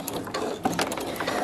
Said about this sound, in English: let's go around this again, 1/2 inch seam allowance, and do a little bit more stitching